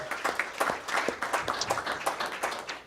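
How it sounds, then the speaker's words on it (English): Applause at a county school board of education meeting, a scattered room of hands clapping at steady moderate volume, with individual claps standing out throughout. "One more round of applause there."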